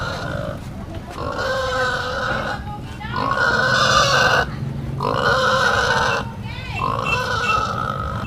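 Pigs grunt and squeal in four long, loud bursts one after another, close by, over a low rumbling background, while being transported in the Philippines.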